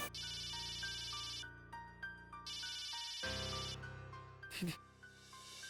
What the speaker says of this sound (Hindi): दीदी फोन उठाओ प्लीज।